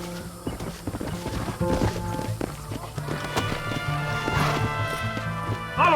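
Galloping horse hooves in Red Dead Redemption, a steady clip-clop rhythm running under game music and ambient effects, with a brief whinny-like rise near the end.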